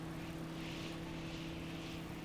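Propeller airplane engine in the Stormworks video game drones steadily and evenly, a loud constant hum with a low tonal buzz that holds throughout without change.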